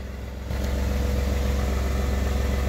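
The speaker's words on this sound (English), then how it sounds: "let me go ahead and start it up for you" A stock 2017 Ford F-150 with the 2.7L EcoBoost V6 turns over and settles into a steady, loud idle, a continuous close engine drone after a brief quieter moment.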